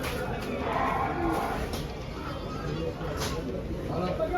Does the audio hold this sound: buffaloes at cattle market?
yes